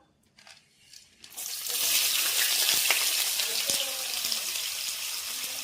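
Onions frying in hot oil with whole garam masala spices, star anise and shahjeera for a coconut mutton curry; a loud, steady broadband sizzle erupts after a quiet start with light clinks and keeps going without pause.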